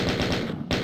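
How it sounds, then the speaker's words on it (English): Rapid automatic gunfire in the Doom video game, fired at ghosts: a fast, loud string of shots with a brief pause before the firing resumes. "Shooting at ghosts."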